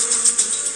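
Angry bees, a brief, close, high-pitched insect buzz with a steady whine and small surges in loudness.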